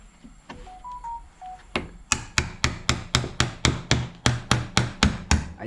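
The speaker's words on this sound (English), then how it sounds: "my other hammer." A hammer drives a chisel into a wooden live edge picture frame, about fifteen sharp, evenly spaced strikes ringing out close up after a few short electronic beeps.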